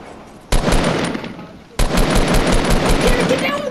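Rapid bursts of automatic gunfire in a Fortnite battle royale match, loud and dense, with a sharp jump in intensity partway through and faint voices underneath.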